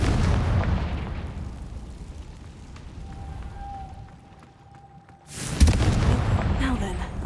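A Confringo explosive spell cast in the video game Hogwarts Legacy: a thin whistling tone hangs over a low rumble, then a loud sudden blast bursts in and carries on as a dense roar.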